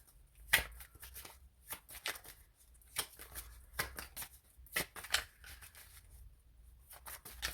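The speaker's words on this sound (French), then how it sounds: "C'est la dernière carte que je sors ça pour ce tirage." Tarot cards being handled and a card drawn from the deck during a reading, with repeated quick papery flicks and slides, close and fairly quiet, with no talk.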